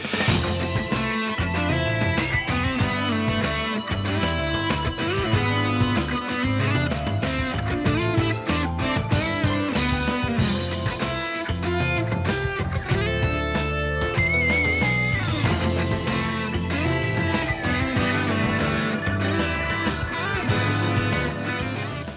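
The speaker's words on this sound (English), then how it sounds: "you hear a game over-like theme with this acceptance leitmotif in it" Somber game-over style theme from the video game Revita, built around an acceptance leitmotif; dense layered music plays steadily and loud for the whole stretch with no voices.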